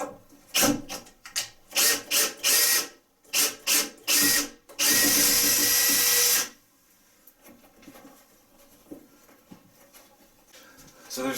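A power drill drives a screw into a bathroom light fixture mount, firing in several short, close, loud bursts that end in one sustained longer whir, then quiet handling noises.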